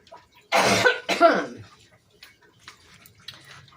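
Someone cooking in a kitchen coughs into a rag on their shoulder: two loud, close coughs in quick succession, followed by faint, quiet kitchen noises.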